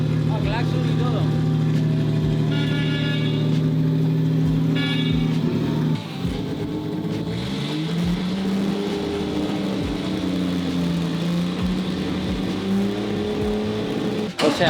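An old Mercedes 220S car horn honks in a few short blasts over an idling engine's steady rumble, with people talking nearby.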